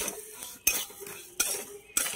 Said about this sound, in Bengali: সব মশলা কটা এবার ভালো করে ভাজতে হবে।